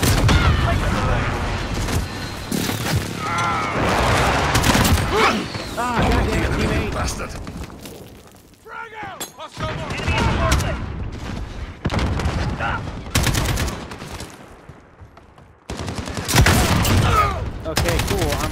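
Rapid AK-47 bursts crack through a Call of Duty-style multiplayer match in Damascus, firing in repeated volleys with explosions and effects between them while players talk over the action.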